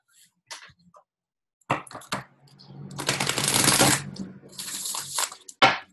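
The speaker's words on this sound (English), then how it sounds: "So I'm going to shuffle here a little bit, and then we'll get right into the reading." Tarot cards are shuffled close by, a few soft taps and flicks followed by a dense, sustained riffle lasting about a second, then more scattered snaps and a final sharp slap, with no talking.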